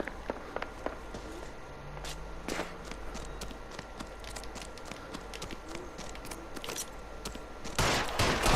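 Sporadic gunshots ring out in an L.A. Noire shootout, sharp scattered cracks over running footsteps and background noise, with a heavier burst of fire toward the end.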